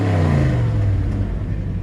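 A 1984 Chevrolet K5 Blazer Silverado rumbles loudly through its exhaust as the engine is revved, a deep throaty drone rising then easing slightly, close and with no talking.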